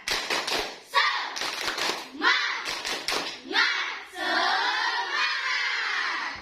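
A school class claps out a rhythmic spirit-clap pattern together in the classroom, bursts of hand claps mixed with children's shouting voices in steady beats throughout.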